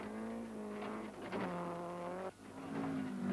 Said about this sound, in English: That crashing noise is the stones hitting the underside of the car.